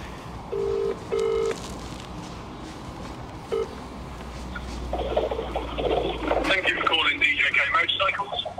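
A telephone rings through a speaker at a live prize draw at Triumph West London: two short electronic ring bursts near the start and a brief third one later, followed by louder broadband background noise.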